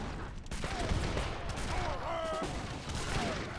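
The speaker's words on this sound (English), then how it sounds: "5 mortars are coming in." Dense, continuous barrage of mortar and artillery fire in a wartime strategy video game, rumbling explosions and crackling shots layered over each other throughout at moderate distance.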